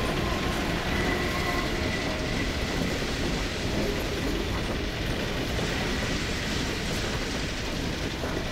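A train running inside the Half-Life 2 video game: steady, loud rumbling and rattling of rail cars with clickety-clack wheel noise, continuous throughout and heard alone without talk.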